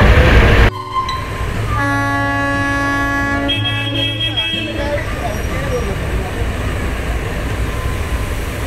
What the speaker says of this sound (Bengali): টয় ট্রেন হুইসিল দিল, এখন আগাবে।